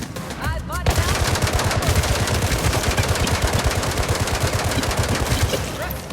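Sustained automatic gunfire in the mobile video game Gangstar, a dense rapid burst of loud shots that continues for several seconds, with a brief voice near the start.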